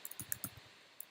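Keys tapped on a laptop keyboard, a handful of light, quick clicks in an uneven cluster followed by a pause and one last tap, quiet and close.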